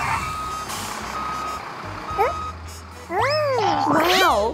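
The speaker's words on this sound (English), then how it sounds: "Mixer truck, come here!" A cartoon cement mixer truck beeps steadily while reversing, its repeated tones running under a music bed, followed by squeaky cartoon voices.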